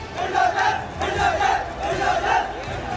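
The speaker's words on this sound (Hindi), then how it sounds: "भीड़ उग्र हो रही है।" Angry protest crowd demanding justice in Guna, shouting in repeated surging chants, loud and dense with many voices rising and falling together.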